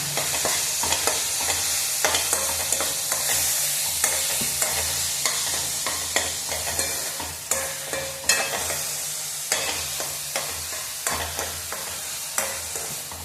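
Chopped tomato is stirred into onions frying in a pan. A continuous sizzle runs under regular spatula scrapes and taps repeating every second or so, close and fairly loud.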